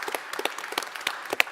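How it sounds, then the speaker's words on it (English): A crowd claps for Mayor Breed at a panel event on economic inclusion in San Francisco, a short burst of scattered, uneven hand claps with a few louder individual smacks. "Yeah, we could clap it up for Mayor Bree, right?"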